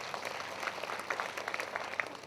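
A crowd claps at a Ghaghra prayer meeting: dense, fairly distant applause made of many scattered hand claps that holds steady for a couple of seconds with no talk.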